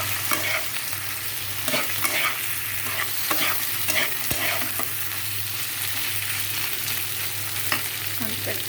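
Vegetable stalks and potatoes sizzle steadily in a pan while a utensil stirs and scrapes them at irregular intervals, close and continuous with no talking.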